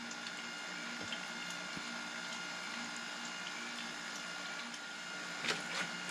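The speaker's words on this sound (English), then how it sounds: "You see the oil coming off the belt, and it's scraping the belt clean." A homemade DIY belt oil skimmer runs with a steady mechanical hum and faint liquid trickle as a scraper wipes oil off the moving belt, continuous and fairly quiet, with a couple of slightly louder scrapes near the end.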